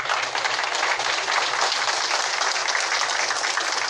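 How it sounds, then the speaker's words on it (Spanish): Steady, dense applause fills a solemn anniversary session for the province of Azángaro, a loud continuous crowd clapping without pause. "Fuerte los aplausos,"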